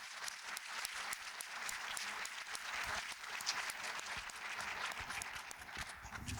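A seated audience applauds panelists at an advocacy awards event, dense, even clapping sustained at moderate loudness throughout, with no break.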